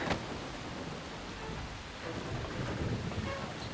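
Steady rain and rumbling thunder in a video game, a continuous, fairly soft wash of broadband noise with no clear breaks.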